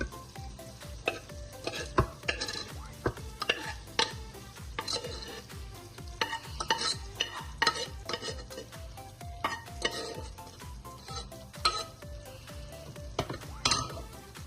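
Chana dal is stirred into cooked mutton in a pot, with the spoon scraping and clinking against the metal in an irregular rhythm over a steady sizzle close by.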